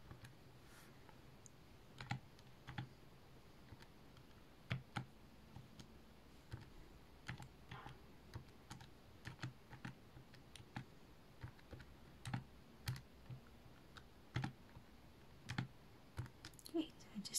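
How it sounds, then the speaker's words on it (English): Calculator buttons pressed one after another while entering a quadratic formula problem, giving soft, irregular plastic clicks that stay faint throughout with no talking. "now you type this in on your calculator"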